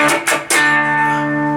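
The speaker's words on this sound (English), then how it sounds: "we need to string mute, so it should sound like this." Electric guitar strummed down and up with string muting: three sharp percussive strokes in quick succession, then a ringing sustained chord, loud and close with no talking.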